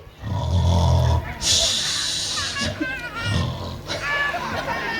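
A person imitates the snoring of a sleeping king in a Catalan storytelling show, giving a loud rasping snore near the start, followed by further vocal sounds and speech-like noise.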